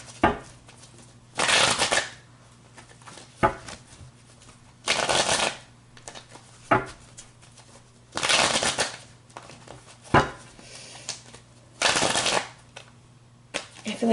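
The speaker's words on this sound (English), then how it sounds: "one more shuffle and then it'll be good." A tarot deck is shuffled over and over, sharp riffling bursts of cards separated by soft taps and knocks as the deck is squared, close and crisp in a quiet room.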